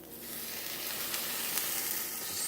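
Chicken pieces laid into a very hot oiled pan give off a bright, continuous sizzle, close and steady, with no voices.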